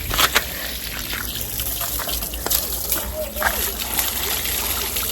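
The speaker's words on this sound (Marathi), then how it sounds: "पाणी पडलं" Water splashes and gushes close by in short bursts inside a camper van in Scotland, with background voices and a low hum underneath.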